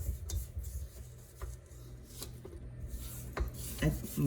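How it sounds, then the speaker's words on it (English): A utensil scrapes around the sides of a mixing bowl of cake batter in a series of soft, close rubbing strokes with short pauses, fairly quiet overall and with no speech. "So I'm just gonna scrape the sides of my bowl."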